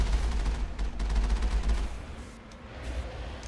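Heavy turrets fire in Mass Effect, a rapid, dense stream of booming shots with a deep low-end rumble that eases slightly midway before continuing.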